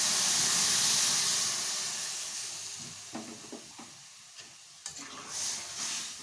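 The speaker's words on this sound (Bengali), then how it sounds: "জলটা দিয়ে দিচ্ছি, জলটা একটু ফুটে উঠুক" Hot pan of fried peas, eggs, chilli and cumin sizzles and hisses loudly as water goes in, the steamy burst fading over a few seconds into quieter bubbling with a few light knocks.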